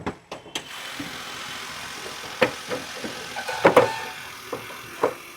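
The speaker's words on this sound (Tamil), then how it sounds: "வண்டியோட இன்ஜின் நம்ம ஸ்டார்ட் பண்ணிட்டோங்க." A 2010 Maruti Suzuki A-Star hatchback engine idles with the bonnet open, a steady low mechanical hum broken by several sharp clicks and knocks close by.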